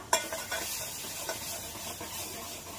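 Spices, including homemade masala, asafoetida, turmeric and garam masala, fry and are stirred in a pan for Katachi Amti. A steady sizzle is broken by repeated scraping strokes from the stirring, heard close up with no talk.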